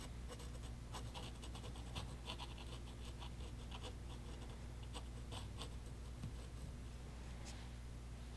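A dip pen loaded with watercolor scratches softly over paper in quick, irregular strokes. It is faint and close, over a low steady room hum.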